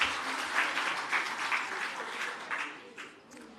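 Steady audience applause at an awards ceremony, dense clapping from a crowd that holds for several seconds and then slowly thins.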